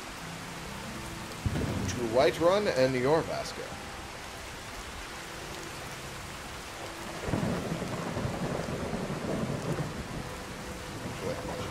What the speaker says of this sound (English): Man, so much rain. So much rain.